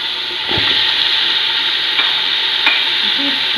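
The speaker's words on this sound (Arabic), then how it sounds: "درت الدجاج يتقلى، درك ندير البصل نقليه مليح" Chicken and onion frying in hot oil in a pan, a steady loud sizzle with a few soft stirring scrapes, no talking.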